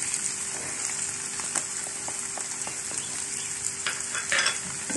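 Small cubes of diced chicken fry with peppers and onion in a pan, giving a steady close sizzle with scattered pops and crackles and no voices.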